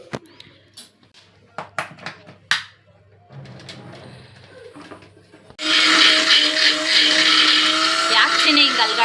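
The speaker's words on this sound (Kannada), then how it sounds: "ಇದನ್ನು ಸ್ವಲ್ಪ ನೀರು ಹಾಕ್ಕೊಂಡು ಪೇಸ್ಟ್ ಥರ ಒಂದು ಚಟ್ನಿ ಥರ ರುಬ್ಕೊಳ್ಳಿ." Mixer grinder starts up loudly, whirring continuously as it grinds curry leaves, mint, green chillies and a little water into a chutney-like paste, after scattered knocks, handling noises and a brief voice.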